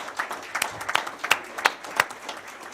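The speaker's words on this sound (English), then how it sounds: "Let's give her a round of applause anyway." A small audience at a county board of education meeting gives a brief, scattered round of applause, with sparse individual claps standing out, fairly faint.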